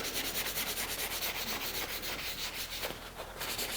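Steady, close rubbing as a sticker is scrubbed off a golf club with WD-40 lubricant: continuous back-and-forth friction with a soft, even texture and no voices.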